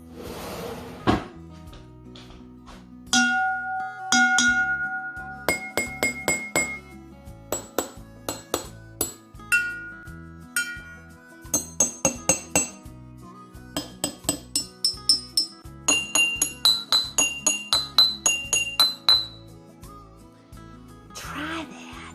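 A spoon taps glass containers filled with different amounts of water, sounding a series of bright, ringing clinks in varied pitches that start in scattered groups and settle into quick rhythmic runs, with short stretches of speech between.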